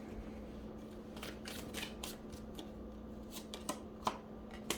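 Tarot cards being shuffled by hand, a quiet close series of riffling flutters and light slaps in irregular bursts.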